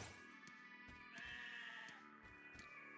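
Sheep bleating, a single drawn-out wavering bleat, soft and alone.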